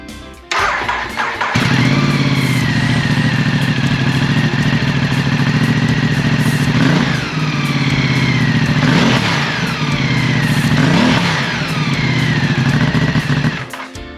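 A 2015 Ducati Multistrada motorcycle engine cranks, fires up and settles into a steady, loud idle close by, blipped up in a few throttle revs.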